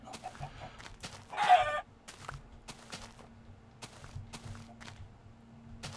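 A Minecraft chicken gives one short squawking cluck over faint game ambience, followed by scattered soft clicks and footsteps at moderate volume.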